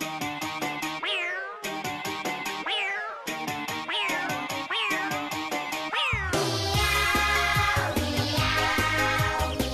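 Children imitate kittens meowing during a baby gym class, repeating high-pitched sing-song meows in bursts and then ending in a louder, busier chorus of overlapping mews.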